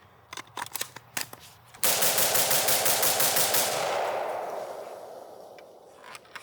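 A Resto-Mod M16A2 IAR rifle fed from a T-Mag magazine fires a few scattered shots and clicks, then a loud, close, sustained full-auto burst whose ring slowly fades.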